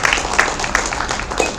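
A seated audience at a Gujarati literary gathering claps to welcome the speakers, president and general secretary: a brief, dense burst of many hands, steady and close throughout.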